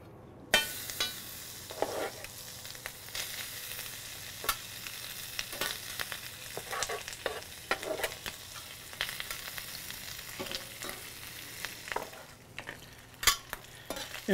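Pork belly and pineapple chunks sizzle steadily on a flat top grill, a continuous close frying hiss broken by occasional scrapes and clicks of a utensil, with no talking.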